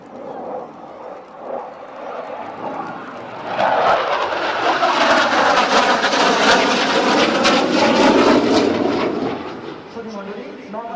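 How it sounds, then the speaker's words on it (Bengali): A MiG-29 fighter jet roars overhead in a flying salute at a parade ground flypast, swelling from a distant rumble into a loud, sustained blast before fading, with a voice speaking beneath it. "উত্তর আকাশে মহামান্য রাষ্ট্রপতিকে ফ্লাইং স্যালুট প্রদর্শনের জন্য এগিয়ে আসছে MiG-29 যুদ্ধ বিমান"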